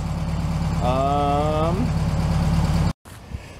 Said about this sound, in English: you can hear it's idling just fine